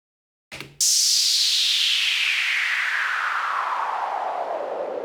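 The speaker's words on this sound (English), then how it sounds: "Another faller sound here" A faller effect in an electronic dance track, a burst of filtered noise that sweeps steadily downward after a brief opening hit, loud and sustained throughout.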